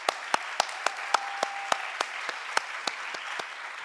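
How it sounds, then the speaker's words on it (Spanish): A small group claps at a union political communication workshop, sparse and uneven, with distinct individual claps spaced out rather than a dense roar, fairly quiet in the room. "Venga, aplauso."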